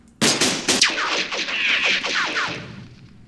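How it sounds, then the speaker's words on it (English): Video game gunfire from a Middle East Arab-Israeli war strategy game, enemy return fire crackling in dense overlapping bursts of rapid shots, loud and continuous for about three seconds. "Ooh, a lot of return fire, but no effect."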